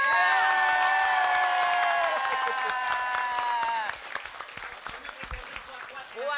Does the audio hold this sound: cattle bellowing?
no